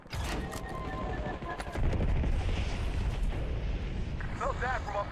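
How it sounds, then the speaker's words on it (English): Napalm airstrike in the video game Call of Duty, a heavy rumbling roar of explosions building and holding, with voices talking underneath. "Napalm inbound."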